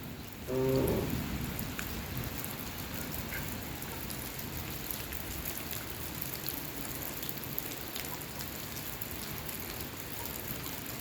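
Steady rain pours during a storm in Laos, a dense broadband wash with a brief louder burst near the start, constant and fairly close throughout.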